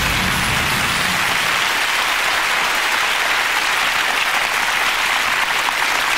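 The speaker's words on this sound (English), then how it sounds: "Give Lindsay a round of applause" A TV studio audience breaks into sustained, loud applause, a dense hiss-like roar of many hands clapping continuously throughout.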